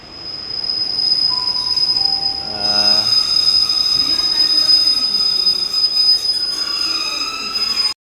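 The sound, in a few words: train arriving at station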